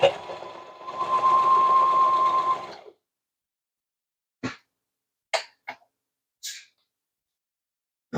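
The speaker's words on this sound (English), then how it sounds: "all we need to do now is just sew along this line. So again, I'm going to do a straight stitch" A sewing machine runs a straight stitch along a seam of patchwork clothing in one steady, whirring burst of about two seconds, followed by silence and a few brief clicks and handling knocks.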